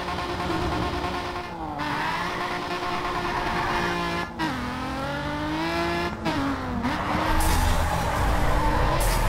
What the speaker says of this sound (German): Naja, jetzt fahr ich erstmal hier rückwärts.